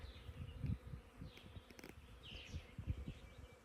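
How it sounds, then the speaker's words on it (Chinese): Bees buzz steadily around a flowering Amur cork tree on a wild mountainside while gathering nectar, a close, continuous insect drone with faint birds in the background. "蜜蜂在上面叫采黄柏蜜"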